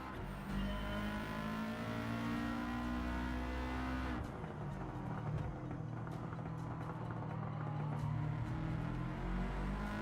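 Subaru WRX STI engine racing in Gran Turismo 7, a steady in-game engine drone with gear shifts and rising revs, fairly quiet and continuous with no talk.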